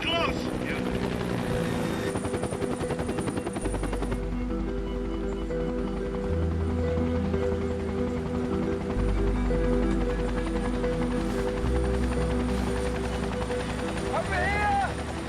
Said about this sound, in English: the instant that I hear that helicopter, I snapped to attention